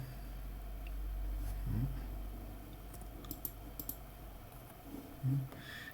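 A computer mouse clicks several times while working in InDesign, with sharp, close, isolated clicks spread over a quiet background hum.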